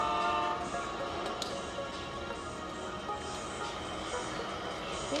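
An Amtrak P42 locomotive in the Rolling Line train game sounds a sustained horn over a steady rolling rumble of the moving train, loud and continuous throughout.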